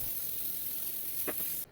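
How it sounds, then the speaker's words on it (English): Easy-Off oven cleaner sprayed onto the inside walls of an oven, a steady, close hissing spray lasting under two seconds before cutting off abruptly. "Spray down the sides."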